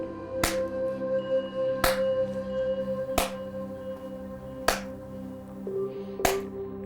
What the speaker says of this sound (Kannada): ಹೀಗೆ ಒಂದು ನೂರು ಹೊಡಿಬೇಕು ನೂರು ಚಪ್ಪಾಳೆ